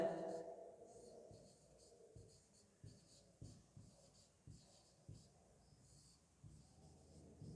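Chalk writing a sentence on a classroom board, heard as short rhythmic scraping and tapping strokes, faint and close, with brief pauses between the strokes and no talking.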